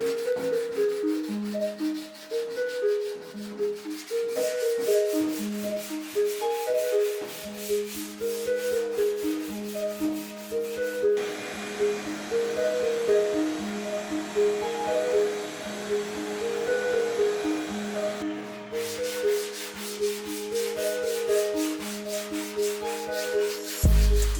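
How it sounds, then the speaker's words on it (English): Steady rhythmic scrubbing of a sanding block on car primer, back-and-forth strokes repeating for a long stretch over background music. "Like long blocking and sanding until you die."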